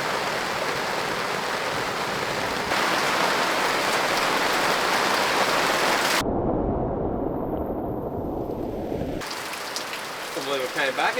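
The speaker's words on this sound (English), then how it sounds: "nothing like a bit of camping in the rain, especially when it dumps down really hard" Heavy rain drums hard on a caravan roof at a campsite, a dense loud roar that changes in character partway through, with a burst of even heavier downpour before it eases.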